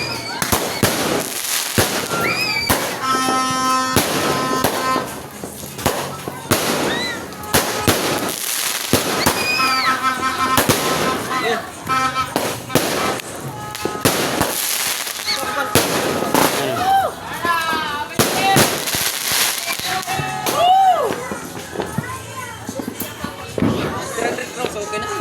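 Dense, continuous crackling bangs of New Year fireworks and firecrackers pop nearby in rapid irregular bursts, with people's voices and whistles mixed in.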